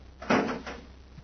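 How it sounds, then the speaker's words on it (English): The hatch door of a miniature spaceship slides and thumps shut in a radio drama, a soft clunk followed by a brief second knock, fairly close and without speech. "Shut the door and shove off."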